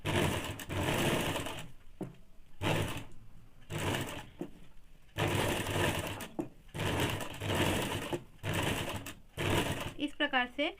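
A sewing machine runs chap stitching on woolen fabric for a baby frock, in repeated bursts of rapid mechanical stitching separated by short pauses, close up, with a voice talking between and over the runs.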